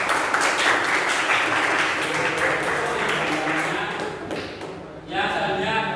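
A classroom group claps together in a dense, loud burst of applause that holds steady for several seconds before thinning out, and a voice speaks near the end.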